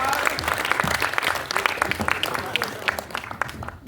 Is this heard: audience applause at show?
yes